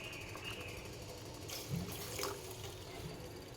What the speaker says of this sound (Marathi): यामध्ये आपण थोडंसं दूधसुद्धा टाकूया